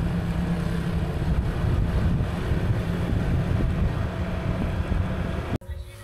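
Cold wind blows steadily outdoors, a continuous low broadband roar at moderate level that drops abruptly near the end, with no clear voices.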